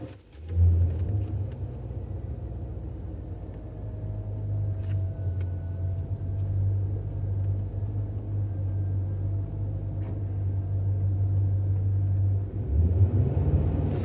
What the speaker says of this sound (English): That's dumping the clutch.